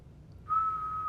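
A person whistles one sustained, steady note in a quiet classroom, starting partway in and holding clearly until the end, with no talking.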